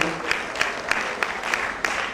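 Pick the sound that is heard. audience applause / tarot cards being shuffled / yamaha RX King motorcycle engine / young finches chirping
audience applause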